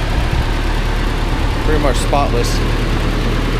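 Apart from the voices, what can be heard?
1986 Mazda B2000 truck four-cylinder engine idling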